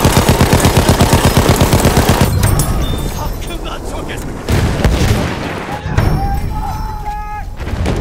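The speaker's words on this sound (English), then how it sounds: "Oh, I'm getting shot at." Automatic gunfire from a Battlefield 1 PC match rattles in a rapid, loud burst at the start, then gives way to scattered shots, thuds and battle noise under excited player talk.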